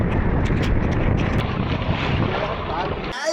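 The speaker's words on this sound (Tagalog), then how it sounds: "Lakas ng hangin." Strong wind buffets the microphone on a small boat at sea, a loud continuous roar with waves and water rushing close by.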